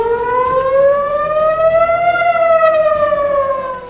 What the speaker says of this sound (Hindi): जिसके बाद पूरे इजराइल में हवाई हमले के सायरन बजने लगे